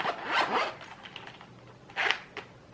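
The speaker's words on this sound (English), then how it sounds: "I love these little zipper pouch thingies where you can store your pens and your pencils." Zipper on a small pen and pencil pouch being pulled in a few quick rasping strokes, close and clear, with no talking.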